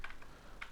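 A few faint computer keyboard keystrokes in two small clusters with a pause between, quiet and close while a website name is typed, no voices.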